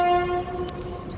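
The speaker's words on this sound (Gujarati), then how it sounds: "મને કે ટ્રેન આવી" A train arrives with a loud, steady horn blast sounding close, holding one sustained tone over rumbling rail noise, with no talk.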